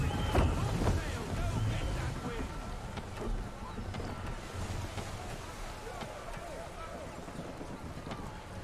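A sailing ship cuts through the sea in a video game, with water washing and wind rushing against the hull and sails in a steady, broad roar while a voice talks over it.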